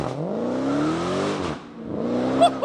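An 810-horsepower Dodge Challenger heard from outside, its engine revving hard in a loud sustained roar, dipping briefly before surging again near the end.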